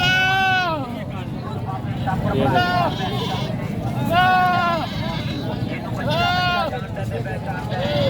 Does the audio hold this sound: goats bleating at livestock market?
yes